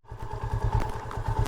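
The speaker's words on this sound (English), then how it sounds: "It's a pleasant ride on a motorbike to go here" A motorcycle engine runs steadily during a ride to Libmanan Beach in the Philippines, with a rapid low throbbing pulse close by and moderately loud, alone without talk.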